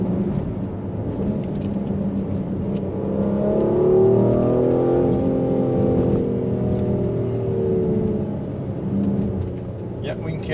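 Mercedes GLC 43 AMG pulling up a hill under acceleration, a muffled cabin drone of engine and road that swells and eases, with someone talking over it.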